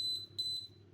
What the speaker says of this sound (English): just holding that button down until you get the confirmatory beep